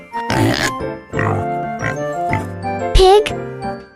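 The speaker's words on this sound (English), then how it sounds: "Pig." A farm pig grunting and oinking in several short bursts, close and fairly loud, mixed with tinkling jingle sounds.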